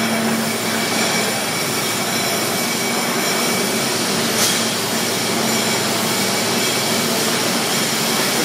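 A Wagner Model 70 cold saw runs with a loud, steady mechanical roar and hum that holds without a break. One brief brighter hiss rises in the middle, and no one speaks.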